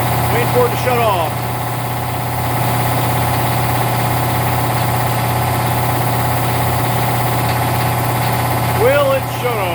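Air compressor fitted with a new replacement pump runs steadily, a constant mid-pitched engine-like drone with a low hum, while people talk faintly at the start and end.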